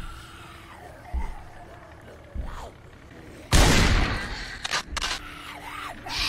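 Gunfire in the zombie survival game Project Zomboid: a few sharp reports, then a loud burst of shots with lingering noise, mixed with engine hum from a nearby idling truck.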